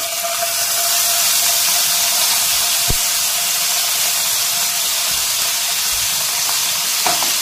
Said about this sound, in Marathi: लसूणची पेस्ट आपण इथे टाकली आहे। तळून घेऊया